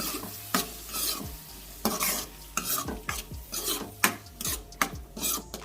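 Chopped onions and tomatoes are stirred in a pan for ragda pani puri, the spoon scraping and rasping in repeated strokes over a low sizzle.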